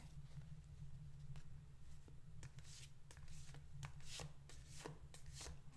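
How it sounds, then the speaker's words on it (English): Playing cards being shuffled during a quiet tarot-style reading: a series of soft, crisp riffling taps and flicks, close and gentle, repeating irregularly over a low steady background hum. "while I'm doing the shuffling."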